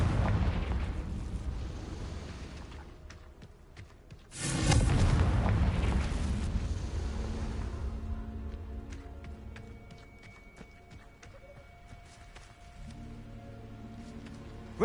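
A Confringo fire-blast spell in the video game Hogwarts Legacy erupts as one loud, deep boom partway through, followed by a long rumbling decay over a low background drone.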